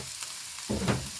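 Chili sizzles briefly in a hot pan for a chicken samosa filling, a faint hiss that swells with a short stirring burst near the end.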